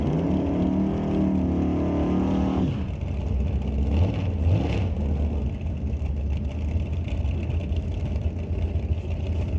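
A 1978 Chevy G-Body Malibu drag car with a 468 Chevy engine roars at the strip, a harmonic-rich rev that breaks off into a rough, loud thumping drone with a brief surge mid-clip.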